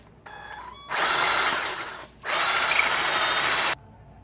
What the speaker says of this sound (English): so we're gonna be ready to drill this.